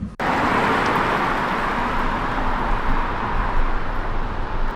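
Chinese estate car pulling away in drive, a steady broadband road and tyre rumble rising after a brief click at the start, heard close from inside the cabin with no talking.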